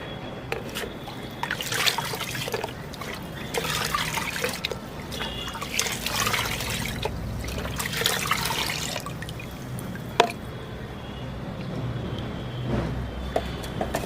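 Water mixed with neem cake fertilizer is poured in a steady, trickling stream that splashes continuously, fairly close and moderately loud, with small drips and a sharp knock partway through; no one speaks.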